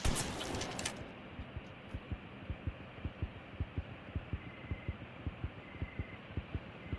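In the horror video game Granny Chapter 3, a heartbeat sound effect thumps in a steady, fairly quick rhythm of soft low pulses over a faint hum, after a brief noisy burst at the start.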